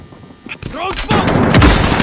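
Gunfire rattles in the Call of Duty Modern Warfare video game, with sharp shots and booming bursts that build and grow dense toward the end, mixed with in-game voices and chatter.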